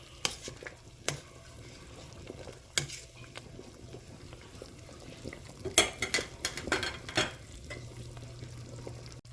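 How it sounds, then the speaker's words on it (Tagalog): Sinigang soup with chayote bubbling in a pot, a steady low simmer with occasional sharp clinks and scrapes of a utensil stirring, close and moderately loud, with no talking. "Ayun, sumusulak na."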